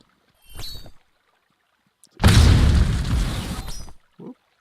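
A fire spell explodes in Spellbreak: a loud, close, broad roaring burst lasting nearly two seconds, preceded and followed by short game effect sounds and brief silences.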